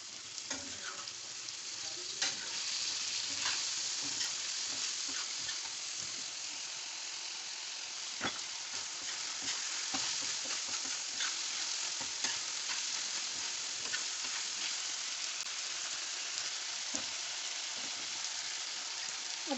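Beef liver kaleji sizzles and fries steadily on a tawa as ghee is added, a dense, continuous crackle with occasional stirring scrapes, close and without talk.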